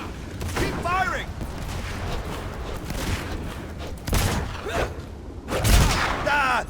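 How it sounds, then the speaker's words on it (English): Gunfire in the video game Fable 3: a busy stretch of broadband shots and thumps over a continuous game din, with louder bursts near the middle and end, partly mixed with voiced game sounds. "Keep firing!"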